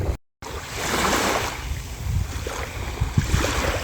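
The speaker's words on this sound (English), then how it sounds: "There's nothing like the sound of that wonderful water." Waves wash ashore at Point Clear in a steady, full rushing wash with gentle swells, close and fairly loud, after a brief dropout at the very start.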